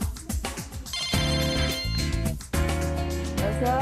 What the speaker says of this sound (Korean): 전화를 받고